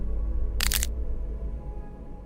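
In a scary video game, one short, crisp cracking burst, like something brittle splitting, rings out over a low continuous rumble.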